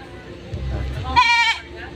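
Goat bleating on a farm, one wavering cry rising after a stretch of low rumbling noise, fairly close and clear, with people talking nearby.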